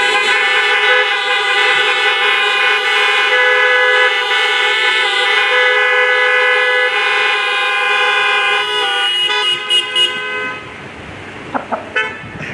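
A dense chorus of car horns sounds loudly and continuously at a 2020 drive-in school graduation, layered tones sustained for roughly ten seconds, then trailing off into a few separate short toots.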